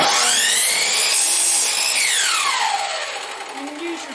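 A power saw cuts pieces of scrap wood for a child's rocker, a loud continuous whine whose pitch sweeps up and down as the blade bites, then eases off toward the end.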